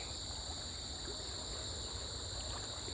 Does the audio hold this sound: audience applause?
no